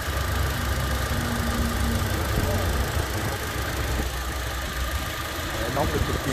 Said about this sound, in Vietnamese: Máy đang nổ các bác, máy nổ cực đều tiếng cực êm.